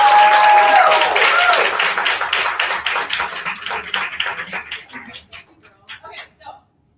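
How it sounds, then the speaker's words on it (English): Audience applause for a coach at a Houston event: loud, full clapping at the start, with a few voices mixed in, that gradually thins into scattered individual claps before stopping. "So please give a round of applause for Coach Diane."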